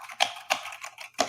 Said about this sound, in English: I wish I had some typing sound effects because you can't hear it.